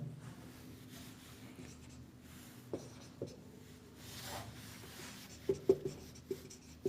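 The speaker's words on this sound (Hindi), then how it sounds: "यहां पे लिखा नहीं जा रहा है, मैं दोबारा लिख देता हूं।" Chalk or marker writing on a board in a history lecture on the Magadh empire, a steady faint scratching with a few sharper taps and strokes near the end, no talk over it.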